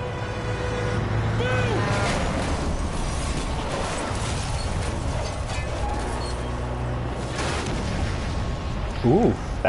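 Explosion in a Spider-Man video game, a loud burst within dense, continuous action noise of engines and combat clatter, with a brief sharper pop near the end.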